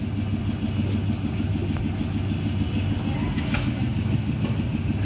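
A Tata Indigo with a wiring short runs in first gear. Its engine gives a steady, close, low rumbling drone that stays even the whole time.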